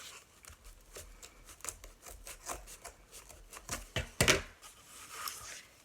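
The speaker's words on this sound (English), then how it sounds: "I'll trim this little long piece right here, and then I'll cut the rest up here" Scissors snipping through ribbon for a mesh wreath, a series of quiet, irregular close cuts and crinkles, with one louder snip near the end.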